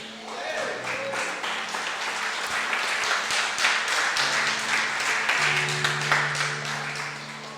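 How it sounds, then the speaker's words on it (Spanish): A church congregation breaks into applause during a sermon, many hands clapping in a dense, rising patter with some sharper individual claps, while voices call out over it. "¿Por qué no le aplaude a nuestro Señor?"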